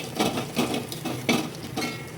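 Chillies being fried and stirred in a small amount of oil in a pan while making kadhi, with a steady sizzle and repeated scraping and clinking of a utensil against the pan, close and without speech.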